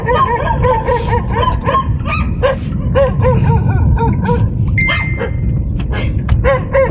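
Several dogs bark and yip close by in quick bursts near Manila Bay, with some whimpering mixed in. The barking is dense and repeated over a low rumbling background.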